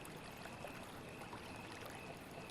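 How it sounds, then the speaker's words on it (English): A clear mountain stream tumbling over rocks, a steady broadband rush and trickle of flowing water heard up close, even and continuous with no voices. "Allow yourself to tune into the sound of the water,"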